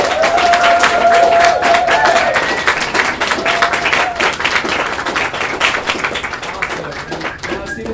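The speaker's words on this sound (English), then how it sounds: "we're going to applaud them" An audience applauds mentors and staff at a Mondays at the Mission event, steady dense clapping with some whoops over about eight seconds, fading slightly toward the end while a few voices and a tonal sound ring out early.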